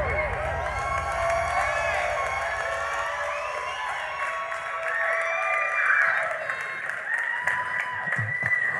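An audience applauds and cheers at a live hip hop show, a dense, steady wash of clapping and crowd noise that swells slightly midway, with a voice faintly audible underneath.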